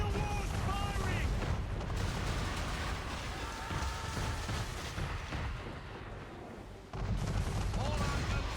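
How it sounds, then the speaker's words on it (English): Heavy ship cannon fire from a man-of-war in Assassin's Creed 3, a dense rumbling barrage of booms over a naval battle, with shouting voices heard under it and a brief drop before the fire resumes. "Man of war's firing!"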